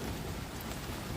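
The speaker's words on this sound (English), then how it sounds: "Unbelievable rain" Heavy rain hammers down in a loud, dense, unbroken roar, close and filling the whole moment with no speech.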